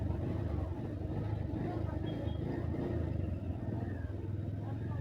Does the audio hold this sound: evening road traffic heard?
yes